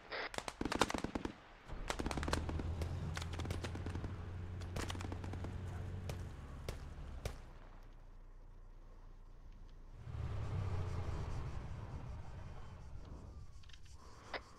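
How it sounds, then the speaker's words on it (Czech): Heavy machine gun fire in the video game ArmA 3 rattles off in bursts of sharp rapid shots, some close and loud, others fainter, with a low vehicle engine rumble running underneath. "Heavy kulomečík. To je kulomet."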